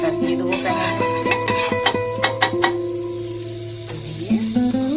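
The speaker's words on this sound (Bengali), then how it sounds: "সেটা মানে একটু বাটার দিয়ে দেবো প্যানের মধ্যে" Butter sizzles in a pan while a chicken sandwich is pressed, a close crackling hiss with a few sharp clicks and scrapes from the utensil, alone without talk.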